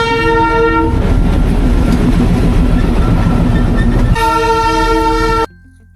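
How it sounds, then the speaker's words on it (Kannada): A toy train pulls into a railway station in Sikkim, its horn blaring, then giving way to rumbling wheels clacking over the track before the horn sounds again. The sound is loud and close, then stops abruptly. "ಅಂತೂ ಇಂತೂ ಟ್ರೈನ್ ಬಂತು."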